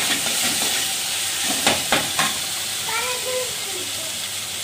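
Coriander stems frying in hot oil for a moong dal tadka, a steady sizzling hiss running throughout with a few brief clicks and stirring knocks in the middle.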